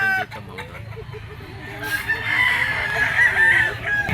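A two-year-old yellow-legged Kelso sweater gamecock crowing close by in a long strained call, with other fowl clucking around it at a pet market.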